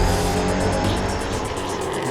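Race cars roar together at a drag racing event, a loud, dense, continuous engine din close by with slight rising and falling surges.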